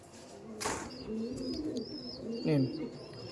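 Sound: Laldom pigeons cooing in a loft

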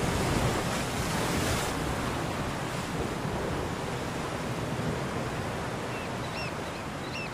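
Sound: ocean waves pounding on rocks

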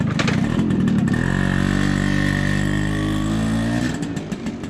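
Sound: FR80 motorcycle being ridden

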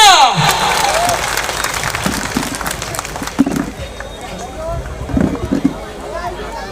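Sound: applause

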